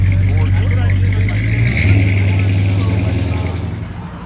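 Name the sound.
classic car driving past at a car show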